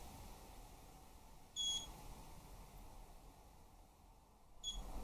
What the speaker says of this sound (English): three beeps, it goes into AV mode